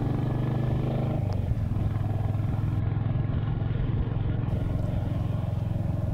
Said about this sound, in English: As you can hear, the Hunter is running nicely, even though it's still pretty tight, this engine.